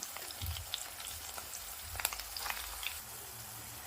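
Onion paste and green chillies frying in oil for a chicken curry, a soft, continuous sizzle with scattered small crackles and pops, fairly faint and close.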